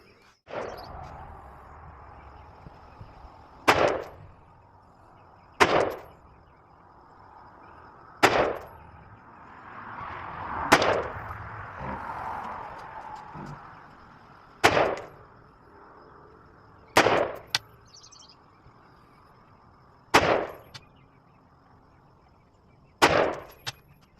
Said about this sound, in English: I totally miscounted my shots when I was shooting my groups